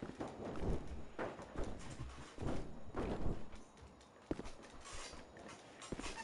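Horse hooves clip-clop in an irregular walking rhythm inside the GTA 5 video game, a series of distinct thudding steps heard alone.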